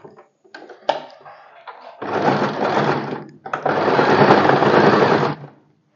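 A sewing machine stitches a four-tuck blouse in two loud, steady runs lasting about a second and two seconds, close by, with short clicks and handling noises just before them.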